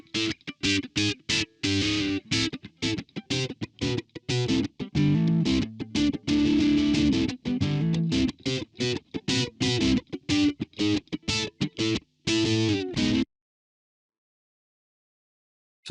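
Electric guitar played through a HoRNet HDS1 MK2 distortion pedal emulation plugin, loud, gritty chords struck in a choppy rhythm of short stabs and a few sustained notes, then abrupt silence near the end.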